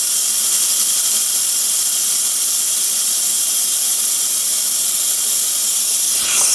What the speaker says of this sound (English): On the Instapot, I'm going to go ahead and let my steam button off.